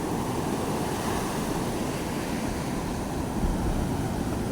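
Sea waves washing against a boat out on open water, a dense continuous roar of surf and wind noise that stays loud and steady throughout.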